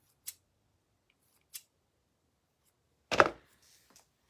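Scissors trim fluffy fabric decoupaged onto wooden gnome earrings: two faint, quick snips, a pause, then one louder, closer cut, all in a quiet room with no talking.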